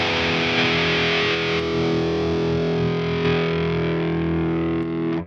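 Distorted electric guitar through Forward Audio IRmageddon cab simulation with the bite control engaged, a sustained gritty chord ringing loudly and evenly with bright, crunchy upper mids, alone without talk.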